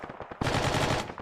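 Automatic weapon fire rattling in Arma 3 squad combat, a burst of rapid close shots starting a moment in after a few scattered fainter rounds, loud and sustained to the end.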